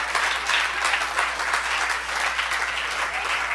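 A church congregation breaks into sustained applause, a dense, steady wash of many hands clapping together without pause, filling the hall at a fairly strong level.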